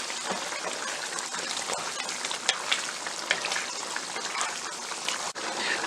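Tomatoes sizzle and bubble in a pan as they cook, a dense continuous frying hiss with occasional stirring scrapes, close and steady without talk.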